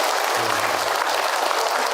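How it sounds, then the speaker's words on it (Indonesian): A gathered audience at an Islamic question-and-answer talk claps in a steady, full wash of applause that lasts the whole moment. "Tepuk tangan buat Bunda yang baik"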